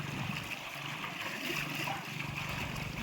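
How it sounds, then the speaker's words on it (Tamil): Water rushing fast through a big outdoor summer swimming pool, a steady broadband wash of flowing, splashing water that continues without pause. "ரொம்ப தண்ணி வேகமாக தான் போயிட்டு இருக்கு."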